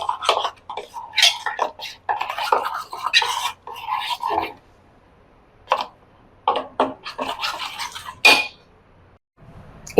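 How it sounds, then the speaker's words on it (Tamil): A spoon scrapes and clinks against a pot while barley kanji paste is stirred with salt, in irregular bursts separated by short pauses, fairly close. "நல்லா திருப்பியும் கலக்கிட்டு"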